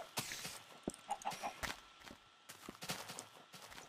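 Chickens cluck and scratch about in Minecraft, a string of short clucks and soft step-like taps at moderate level, with no speech over them.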